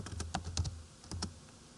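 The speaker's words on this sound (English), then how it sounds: "So I'm going to type in Frenchtown," Quick burst of keystrokes on a computer keyboard entering search terms, several soft close taps in an uneven run that stops near the end, quiet room.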